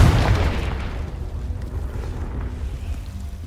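A Confringo spell blast in Hogwarts Legacy lands as a loud booming explosion at the onset, then rolls off into a long fading rumble with no talk.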